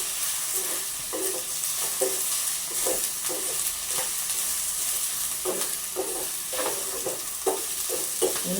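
Onion roti mixture being stirred in a hot pan, with a steady sizzle under repeated rhythmic scraping strokes of the spoon, close and clear with no talking.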